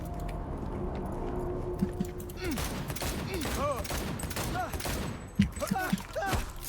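Bursts of gunfire in Cyberpunk 2077, shots crackling amid game sound effects while a voice speaks over parts of the action.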